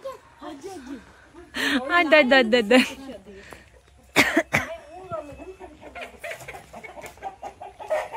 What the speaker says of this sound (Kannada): ಕೋಳಿ ಎಲ್ಲ ಕಣ